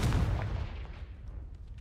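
The Confringo fire spell is cast in Hogwarts Legacy, a loud close blast with a booming low impact that decays over about two seconds.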